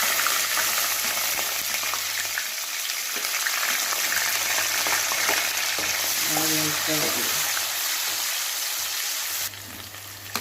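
Steady, loud sizzling of onions, garlic and curry leaves frying in a pan, with a few faint stirring scrapes and no talking.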